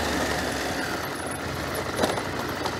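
A trail motorcycle engine runs at low speed through a curve, a steady, moderately loud rumbling drone with faint rattles and a brief louder knock near the end, with no talking.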